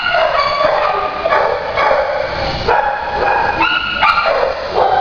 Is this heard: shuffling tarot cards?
no